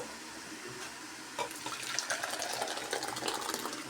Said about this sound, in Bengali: চাটনিটা এখন আমি ঢেলে নিব।